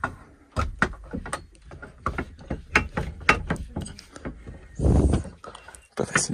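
A heavy carved wooden door in an old Moroccan house is closed with a run of knocks, rattles and clicking latch sounds, ending in a louder thud, while a person talks nearby.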